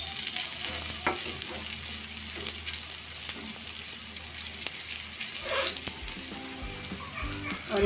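Vegetable-filled dough frying in a generous layer of oil in a non-nonstick pan, giving a steady close sizzle with occasional stirring and scraping, and a brief dog whimper faintly in the background.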